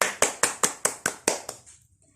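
A classroom of students claps in unison for a classmate, seven crisp, evenly spaced claps at a steady beat, loud and close, then a softer scattered tail fading out.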